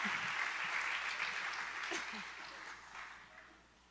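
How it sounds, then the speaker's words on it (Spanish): Church congregation applauding during a sermon, a crowd of clapping hands that is strong at first and then tapers away, with faint voices mixed underneath. "Aleluya, dale un fuerte aplauso."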